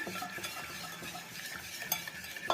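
Batter for rumoush el sett dessert is mixed in a bowl with a utensil, giving quick, rhythmic scraping and soft slapping strokes close up, with a sharper clink at the end and no talking.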